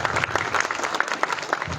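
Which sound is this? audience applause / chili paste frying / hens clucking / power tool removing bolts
audience applause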